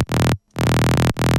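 A plain, unprocessed saw-wave bass synth from the Serum synthesizer, three loud, buzzy held notes separated by short gaps of silence.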